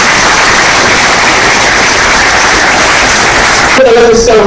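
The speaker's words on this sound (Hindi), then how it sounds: "जोरदार तालियों के साथ स्वागत करें।" Loud, dense applause fills a hall at a geography lecture event to welcome the director. It runs as a continuous roar that cuts off sharply near the end, where a voice begins speaking.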